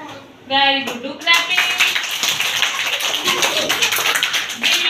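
An LKG class of young children bursts into loud group clapping just after a short spoken phrase, a dense run of rapid hand claps lasting several seconds.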